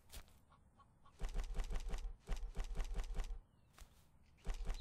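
Chickens on a farm in the video game We Harvest Shadows cluck in quick, repeated bursts, with clusters of sharp calls separated by brief quieter gaps, close and fairly loud.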